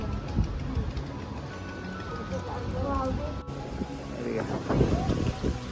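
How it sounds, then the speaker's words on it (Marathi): Heavy rain and gusting wind at a Konkan fishing harbour, a constant rushing wash with wind buffeting the microphone, with people talking nearby. "किती पण पाऊस असलो तरी देखा वादळ वारदना पण चालल्यात"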